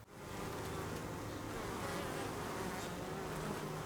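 Honey bees buzzing around an open beehive, a dense continuous hum that stays loud and even throughout with no talk.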